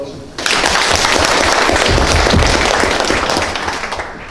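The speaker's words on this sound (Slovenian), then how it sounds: "En aplavz, prosim." Audience applause fills a concert hall for the conductor of a men's choir, starting abruptly and holding as a dense, loud, sustained wash of clapping for about four seconds.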